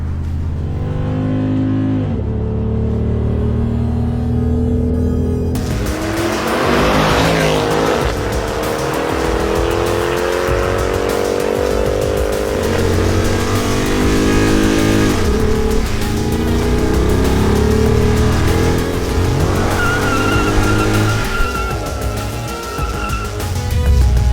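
A Toyota Hilux bakkie fitted with a Mercedes C63 AMG engine and an automatic gearbox with torque converter revs hard, a loud, continuous engine roar rising and falling close by, with no talking.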